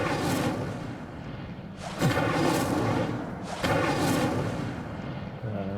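Casting the Incendio fire spell in Hogwarts Legacy throws out loud roaring bursts of flame, with two strong whooshing blasts in a row over a continuous fiery rumble.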